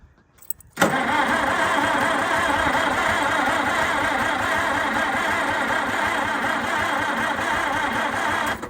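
An old White 2-44 tractor engine, carburetor freshly fueled, cranks steadily and loudly after a brief quiet start, a continuous rough rumble that never catches into a clean run.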